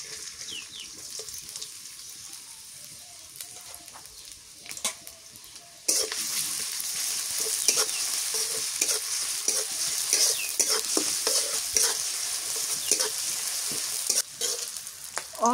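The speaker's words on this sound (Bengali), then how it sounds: "পেঁয়াজ ভাজা হয়ে গেছে" Chopped onion frying in mustard oil in a wok over a village clay stove, a faint sizzle that jumps to a loud, dense crackling hiss partway through and holds steady, close, with no talk.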